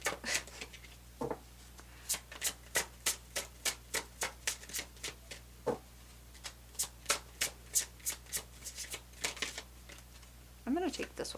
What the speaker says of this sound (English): These are such a pain to shuffle because there's only 12 and they're so thin.